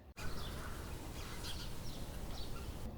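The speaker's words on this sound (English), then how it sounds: "You might hear the birds." Birds call and chirp outdoors around a porch, with a few brief tweets rising over a soft, steady background hiss; the calls are faint and distant.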